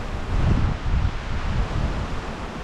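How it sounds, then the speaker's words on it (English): Outdoor wind gusting against a microphone during plant propagation work with plastic cups, a steady low rumbling roar that swells and eases over a couple of seconds, with no voices. "that wind is blowing my cups over here"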